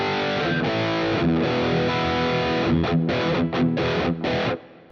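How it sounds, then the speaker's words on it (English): An overdriven electric guitar plays chunky rhythm chords with a light reverb tail, ending in a few choppy stabs before ringing out. "I have a little bit of overdrive and just a splash of reverb, just to wetten it up."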